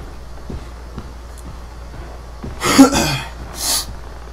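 Two or three harsh, breathy coughs burst out close by, followed by a shorter cough after a brief pause, over a quiet, low background hum.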